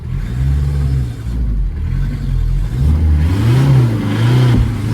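A 1998 VW Caddy pickup stuck in place, its engine close and loud, revving repeatedly with rising and falling pitch as it strains to move.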